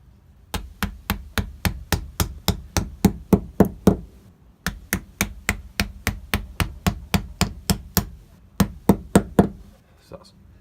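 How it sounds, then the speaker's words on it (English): A hammer gently taps anchors into a thermalite block: a steady series of sharp, evenly spaced knocks in two runs separated by a short pause, with a few final taps near the end. "Now I'm being really gentle with this hammer, just so I don't damage the block"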